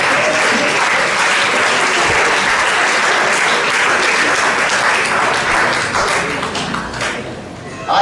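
A church congregation breaks into loud, sustained applause during a worship service. Dense clapping fills most of the clip, then thins and fades near the end.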